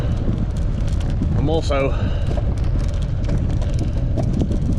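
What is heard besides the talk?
wind blowing on the coast at Cnoc Folla, Ireland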